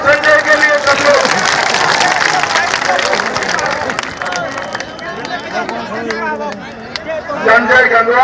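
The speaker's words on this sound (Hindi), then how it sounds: "भाई ताली बजाओ संजय के लिए सब लोग" A rally crowd applauds for Sanjay Gangwar, broad sustained clapping and hubbub swelling under a loud amplified voice addressing the gathering, the noise thinning midway before rising again.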